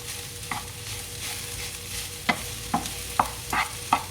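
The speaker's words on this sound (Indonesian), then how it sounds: "mencampur nasinya dengan bahan yang lain itu dalam keadaan wajan masih panas" A spatula scrapes rice mixed with oncom around a hot wok after the stove has been switched off, with a soft constant sizzle and sharp stirring strokes in an irregular rhythm, growing more frequent toward the end.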